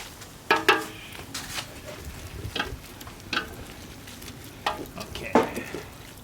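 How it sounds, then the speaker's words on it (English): Tomato paste sautéed with vegetables in a pot for a plant-based Hungarian goulash: a soft, continuous sizzle broken by several sharp scraping stirs, close and fairly quiet. "It's almost as if you're sauteing the tomato paste just like you do the vegetables."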